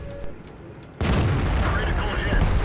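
A tank's main gun fires in a tank video game, a single loud booming blast that sets off a sustained broad roar and rumble lasting to the end.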